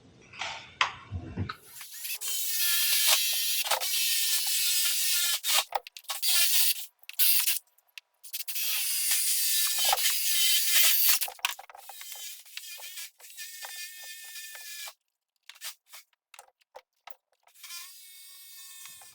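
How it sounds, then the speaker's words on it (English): An angle drill whines at high pitch while boring holes for rivet nuts in a motorcycle part, an Aprilia RS660 swingarm bracket, in several loud bursts broken by brief stops. "Got an angle drill, so I'm going to drill it and stick some riv nuts in there."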